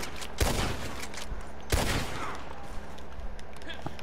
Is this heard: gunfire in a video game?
yes